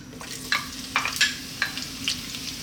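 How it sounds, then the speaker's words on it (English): Sliced onion drops into a hot pan and sizzles steadily, with several sharp crackling bursts and stirring scrapes at close range, alone without talk. "Right, let's drop in our onion."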